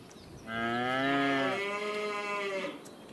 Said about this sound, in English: Look at these cute little baby cows. Absolutely adorable, just born.